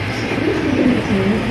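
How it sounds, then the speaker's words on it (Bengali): Pigeons at a Bangladeshi breeder's wholesale sale give loud, close, low rolling coos that overlap continuously in a dense flock murmur. "বন্ধুরা, এখানে রয়েছে বাংলাদেশের জনপ্রিয় এক কথায় কবুতর"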